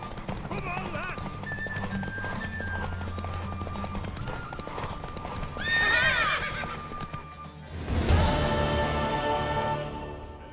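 Horse hooves clip-clop at a gallop during a race in The Witcher 3, with neighs and whinnies, loud and close beneath game music, with voices heard partway through.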